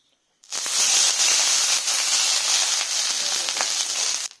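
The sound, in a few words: water poured onto hot dosa pan hissing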